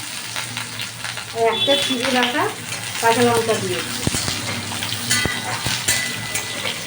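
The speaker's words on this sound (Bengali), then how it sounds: "আলুটাকে আমি ভালো করে ভাজবো" Potatoes and slit green chilli fry in a pan with a steady close crackling sizzle, interrupted by a few sharp stirring knocks, while a person talks over the cooking.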